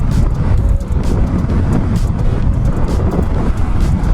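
A modified ADV 150 scooter with an upgraded pulley and sliding sheave accelerates hard from half throttle, a loud, steady engine and drivetrain roar with wind buffeting across the whole stretch, no voices.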